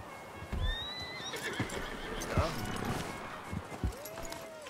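Horses in Red Dead Redemption 2 snort and whinny while hooves clop irregularly nearby, with a rising neigh near the end and game sounds and background activity filling the gaps.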